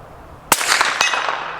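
A suppressed Ruger American Ranch rifle in 300 Blackout fires one loud, close shot outdoors, a sharp crack followed by a short ringing tail and a fainter distant echo.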